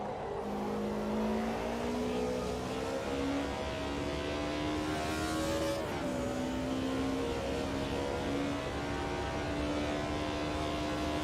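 A four-cylinder H-pattern race car engine in the Automobilista 2 racing game revs hard and climbs through the gears, with a brief dip at a shift before its buzzing note rises again.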